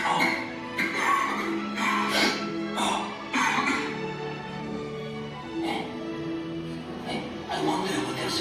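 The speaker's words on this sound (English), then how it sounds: "The knights are coughing." Animatronic knights cough and clear their throats at the Be Our Guest restaurant, several loud, close, gruff coughs in irregular bursts over indoor ambience.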